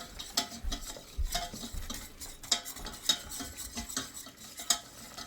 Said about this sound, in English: now you're going to stir that up until it's all incorporated